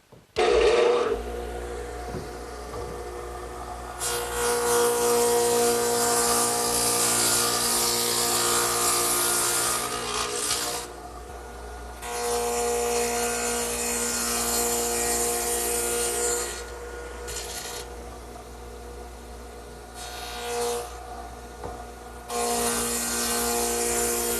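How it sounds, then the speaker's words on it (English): A radial arm saw fitted with a stacked dado head cuts a wide dado about 9/16 inch deep in wood over several passes: loud, sustained roaring cuts broken by short gaps where the motor hum idles. "I've also put my stacked dado head cutter in the radial arm saw"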